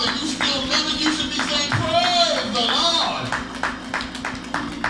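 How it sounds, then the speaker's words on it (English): Baptist church congregation clapping hands in praise during a sermon, a scattered, moderate clapping heard under a preacher's loud, continuous speaking. "Come on, give God a hand clap of praise."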